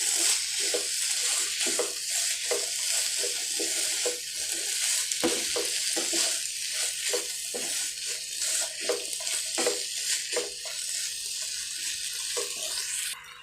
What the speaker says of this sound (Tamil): இதெல்லாம் நல்லா மிக்ஸ் பண்ணி விட்டுக்கலாம்.